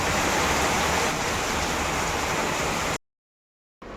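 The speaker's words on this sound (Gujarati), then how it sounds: "કેવો વરસાદ આવે છે" Heavy rain pours down outdoors as a dense, steady roar of broadband hiss, cutting out abruptly near the end before resuming briefly.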